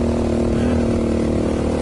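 A dual sport motorcycle rides through deep snow in a blizzard. Its engine gives a steady, loud mid-pitched drone with no clear revving or gaps, and no one talks.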